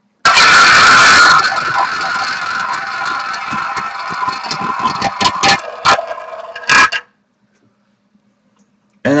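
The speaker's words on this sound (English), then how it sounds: "And we'll spin our wheel one more time to see what team is going to be getting that one" A prize wheel spun during a sports card box break clicks rapidly past its pegs, loud and steady at first, then the ticks space out and slow to a stop, followed by near silence.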